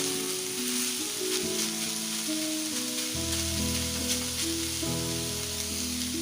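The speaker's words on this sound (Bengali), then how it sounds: "শুধু জাস্ট থোড়টা ভাজা ভাজা হওয়া পর্যন্ত অপেক্ষা করব" Steady sizzling of banana stem frying in a hot pan, continuous and close, with no voices.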